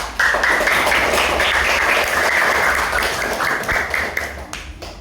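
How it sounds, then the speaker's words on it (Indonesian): A classroom of students applauds a classmate during a water-cycle lesson, loud close rhythmic clapping that runs steadily before tapering off at the end. "bagus sekali tepuk tangan untuk Tio"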